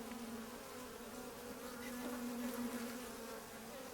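Honey bees buzz loudly and continuously with a steady drone during a hive inspection on a homestead, with no voices over them.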